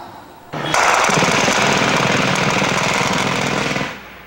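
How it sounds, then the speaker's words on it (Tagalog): Automatic gunfire from fighting between the military and the Maute Group in Marawi: one loud, sustained rapid-fire burst lasting about three seconds, starting abruptly and then cutting off. "Kuha ito ni Hamid noong unang bugso ng putukan sa pagitan ng militar at Maute Group"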